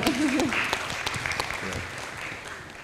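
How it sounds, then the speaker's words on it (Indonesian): An audience at a livestock talk show about Central Java farming breaks into applause, a dense clapping burst that fades over a few seconds, with a voice briefly audible at the start. "Tepuk tangan dulu dong untuk Jawa Tengah."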